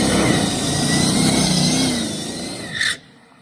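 Steve Huff's electric dragster does a burnout on taller tires, producing a loud, steady, high-pitched electric whine and tire roar that holds, swells briefly, and then cuts off abruptly near the end.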